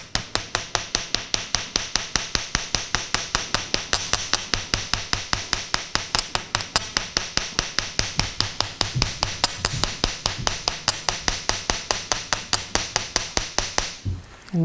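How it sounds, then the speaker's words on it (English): A hammer taps across the surface of a copper jewelry piece in a fast, steady stream of sharp metallic strikes, close and even, continuing for about fourteen seconds before stopping. "just hammer the whole surface"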